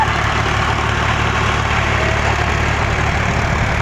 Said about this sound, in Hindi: भैया उन्हें देखो वहां बीच में ट्रैक्टर खड़ा कर लिया